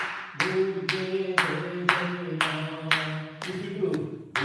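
Hand claps keep a steady beat for a bhajan at a tutoring workshop, about eight sharp claps at roughly half-second intervals over a sustained sung or droning tone.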